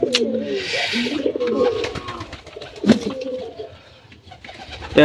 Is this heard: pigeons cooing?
yes